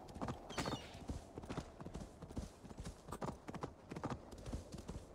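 Quiet, rapid hoofbeats of a horse galloping in Assassin's Creed Valhalla, a steady rhythmic clatter, with no talking.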